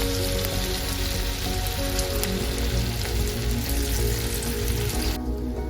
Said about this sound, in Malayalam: ഇനി ഈ ഒരു സൈഡും കൂടി അതുപോലെ ഫ്രൈ ആവട്ടെ